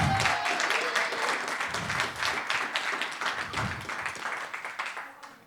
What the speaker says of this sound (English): Let's give a hand to the crowd for coming.